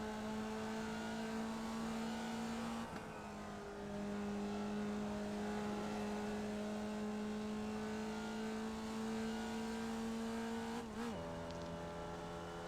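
A Formula Vee race car engine in the iRacing video game revs steadily at a race start, holding a constant droning pitch, then briefly dips as the gear shifts before climbing back, with a second dip near the end.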